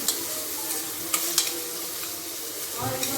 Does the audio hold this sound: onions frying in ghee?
yes